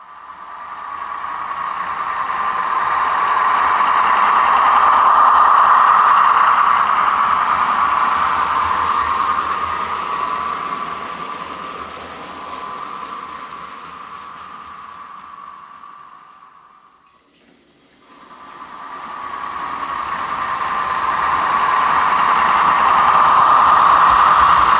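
Model railway train running along the track with added wheel sound effects: a steady rolling hiss that swells, dips almost to silence, then rises again.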